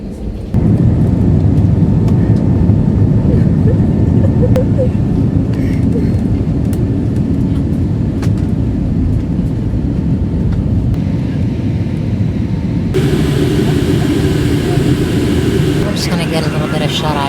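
Steady low rumble inside a passenger airliner cabin as it pushes back from the terminal, with engine and ventilation drone throughout and a brighter hiss rising near the end; voices murmur faintly over it.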